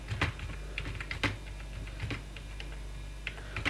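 A computer keyboard is typed on while entering numbers into a spreadsheet, with sparse, crisp key clicks at irregular intervals over a low steady room hum.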